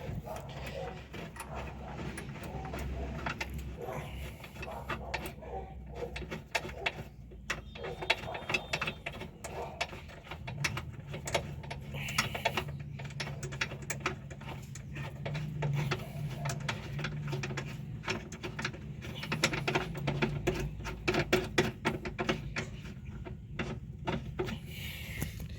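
Ratcheting and metallic clicking come from a wrench as a long bolt is worked out of a VW Golf Mk1 control arm. The rapid mechanical clatter runs continuously up close, with no clear speech.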